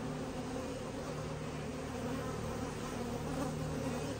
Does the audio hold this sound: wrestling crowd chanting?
no